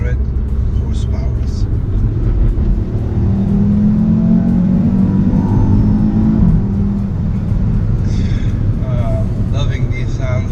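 Audi RS3 with a 2.5-litre five-cylinder turbocharged engine accelerating from inside the car, a steady droning engine note rising in pitch while a person talks over it.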